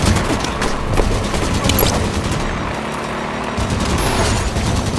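Gunfire and blasts from the video game Halo 5, a dense continuous barrage of overlapping shots and booms, loud and close, with occasional distant impacts and mechanical whirs mixed in.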